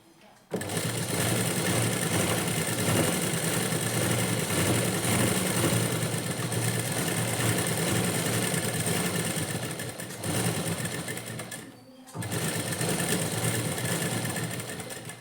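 A sewing machine stitches a blouse lining in a steady, loud, continuous whir that pauses briefly near the end and then resumes.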